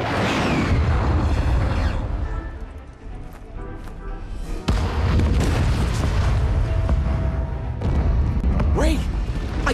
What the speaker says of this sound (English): You'll need to be a safe distance from the blast radius before you detonate.